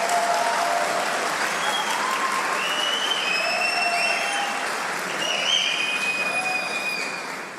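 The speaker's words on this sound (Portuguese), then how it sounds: "Vamos aplaudir a Deus por eles" A church congregation gives loud, sustained applause, with bright whistles and whoops rising over the clapping. The applause stays steady throughout.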